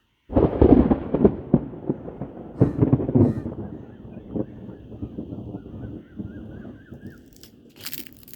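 Thunder from an approaching lightning storm rolls in loud, rumbling bursts over the first few seconds, then fades into a softer, continuous grumble with faint chirps toward the end.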